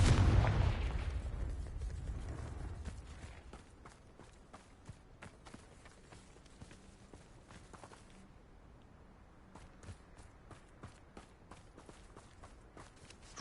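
A Confringo fire spell bursts with a loud booming blast in Hogwarts Legacy, the rumble fading over a few seconds into quiet running footsteps and faint scattered impacts.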